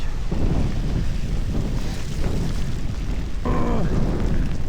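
Steady wind buffeting a microphone, a loud continuous low rumble with gusty swells throughout, with a brief tonal whine near the end.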